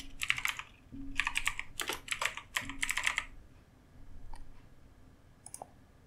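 Fingers tapping out words on a computer keyboard, close and clear bursts of rapid clicks in uneven runs, then a pause and a few scattered isolated keystrokes, no voices.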